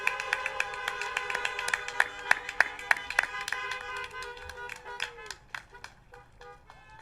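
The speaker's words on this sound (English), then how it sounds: "please join me in a round of applause or a couple of beeps from your horn" Scattered applause rises from an outdoor drive-in high school graduation, with brisk, uneven claps over a steady tonal drone that gradually thin into a few sparse taps.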